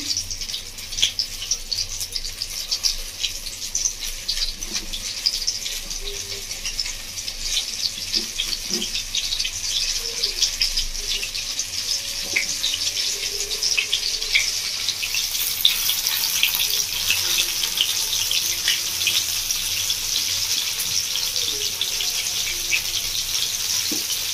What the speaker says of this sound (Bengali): আমরা এগুলো ভালো করে ভেজে নেব মিডিয়াম আছে, হাই ফ্লেমে ভাজবো না